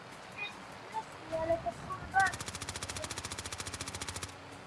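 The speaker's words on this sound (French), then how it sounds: "Hop, allez, tu peux vider tes chargeurs" Players in Warzone empty their magazines at a truck: a few scattered shots and clicks give way to a steady, rapid automatic burst of about twenty even rounds, loud and close, then cut off.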